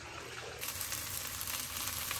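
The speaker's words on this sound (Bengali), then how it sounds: "তাই এইটুকুই ভাজবো এখন।" Okra frying in a pan at home, a steady broadband sizzle that swells slightly after the first half second and stays close and continuous with no voices.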